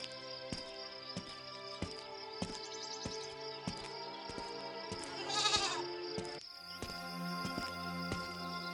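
A cartoon goat being led along by an old man bleats once, a short wavering cry over a steady music bed, with no talk in the clip.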